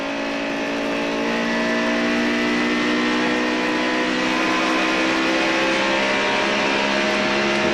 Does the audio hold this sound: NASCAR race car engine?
yes